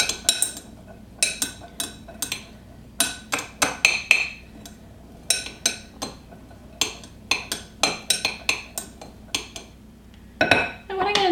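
Black beans are stirred in a pan with a utensil, giving irregular bursts of sharp metallic scraping and clinking, close and fairly loud, with brief pauses between strokes.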